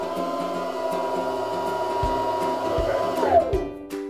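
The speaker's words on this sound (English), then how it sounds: "both your bobbin winder and your needle will be engaged at the same time, and this is what's going to happen" Baby Lock sewing machine running with both the bobbin winder and the needle engaged, a steady motor whir with rhythmic needle thumps joining partway through, close and continuous.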